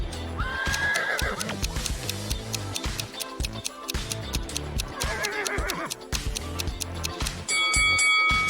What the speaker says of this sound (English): And whose horse is this?